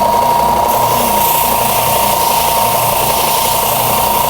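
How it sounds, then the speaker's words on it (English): Oscillating spindle sander shaping an angle on a wooden strip, a loud continuous motor hum with a steady whine and rough grinding texture, running alone without talk. "I'm going to go back to that oscillating spindle sander, put the angle on, and let's hope this one fits."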